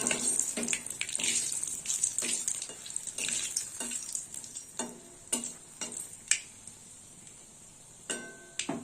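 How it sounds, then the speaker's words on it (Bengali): Black cumin and two dried chillies frying in oil in a pan, a soft sizzle with repeated scraping stirs at irregular intervals, close and fairly quiet, no talk. "ফোড়নটা একটু ভাজা হোক"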